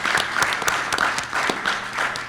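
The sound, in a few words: audience round of applause for sponsors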